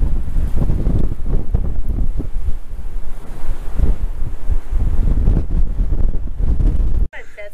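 Strong, dusty wind roars and buffets the microphone continuously outside a camper, loud and gusty, with rushing noise throughout before a brief drop near the end.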